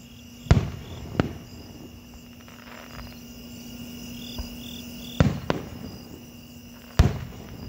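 Labor Day fireworks in a Speedway, Indiana neighborhood: several sharp, booming bursts spaced a few seconds apart ring out over a steady chorus of night insects and a faint constant hum.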